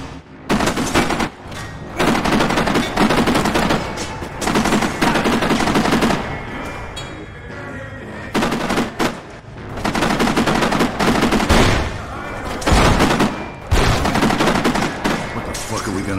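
Heavy gunfire in a video game shootout, long bursts of rapid automatic fire and shots in loud, close volleys separated by brief pauses, with occasional booms.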